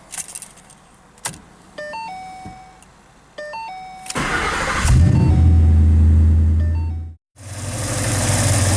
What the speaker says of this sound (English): Alright, now we're going to start the car.